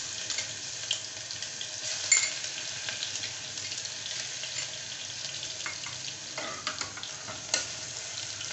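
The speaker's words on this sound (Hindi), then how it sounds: "अब इसमें डालूंगी 2 टेबल स्पून है लहसुन अदरक पिसा हुआ।" Two tablespoons of ground garlic and ginger paste fry in a pan for aloo gobi, a steady close sizzle and hiss with occasional scraping stirs and light clinks throughout.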